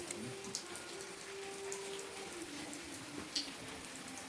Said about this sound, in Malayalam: മഴ കേട്ടോ